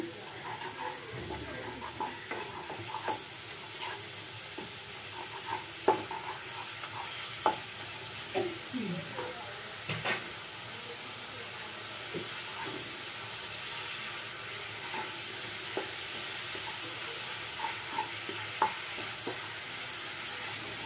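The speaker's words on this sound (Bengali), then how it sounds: "মশলাটাকে কষিয়ে নেব প্রথমে" Spice masala for a vegetarian banana-flower (mochar ghonto) dish frying quietly in a pan, a soft steady sizzle broken by occasional spatula scrapes and taps, fairly faint and close.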